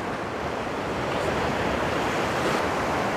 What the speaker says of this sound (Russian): 3 минуты отдадимся счастью, морю и этому великолепному звуку